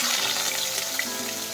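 Garlic and onion sautéing in hot oil for bottle gourd with shrimp, a brief, steady close hiss of frying with no talk.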